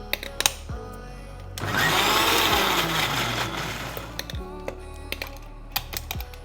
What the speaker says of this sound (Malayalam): കുറച്ച് കറി ലീവ്സും കൂടി ഇട്ട് ജസ്റ്റ് ഒന്നുകൂടി ഒന്ന് ക്രഷ് ചെയ്യാം